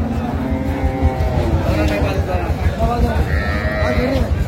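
Sahiwal cows and calves low and moo at a busy outdoor cattle market, their calls rising over dense crowd chatter and steady background noise.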